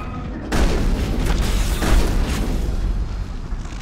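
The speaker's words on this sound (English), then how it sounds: "Shotguns are very... effective against these things." Shotgun fire in Mass Effect, a sudden loud boom at the start followed by sustained heavy rumbling blasts and a second burst near the middle, with no talk over it.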